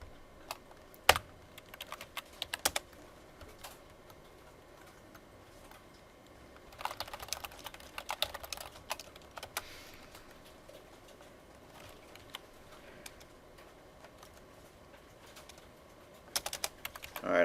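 Sporadic computer keyboard typing in short bursts during a class session, quiet and close, with long gaps of near silence between clusters of keystrokes.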